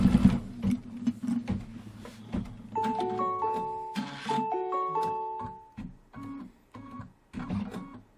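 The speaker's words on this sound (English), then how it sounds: "Let's put the foot down and let's stitch the first line, which is going to keep this fabric down." A Kimberbell embroidery machine stitches a line on fabric, its motor whirring in bursts with pitched hums and rapid needle clatter, stopping and starting several times, near and clear.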